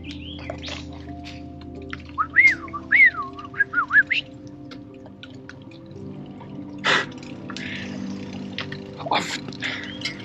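Birdsong along a forest path near Wollongong: a few clear whistled calls rise and fall in a quick cluster, with later scattered chirps, all over a steady low background hum.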